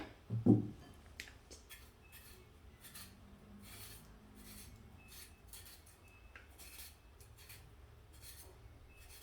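Potatoes being peeled by hand: soft, repeated rasping scrapes of a peeler on potato skin, quiet and close, with one louder knock near the start and otherwise steady small strokes.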